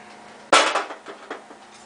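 A small no-bounce hammer knocks down an over-bent sheet metal bend at a brake: one sharp, close metallic strike followed by a few lighter taps, with no talking.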